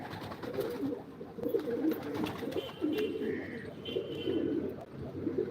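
Pigeons kept by a pigeon fancier coo steadily in repeated throaty bursts close by, with a faint voice now and then behind the birds.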